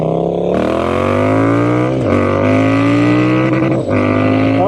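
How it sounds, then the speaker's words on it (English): A Triumph Speed Twin 1200 fitted with a Zard exhaust revs hard and bounces off the rev limiter. Its loud, close, rising engine roar breaks up in stuttering cuts a few times. "That was a rev limiter."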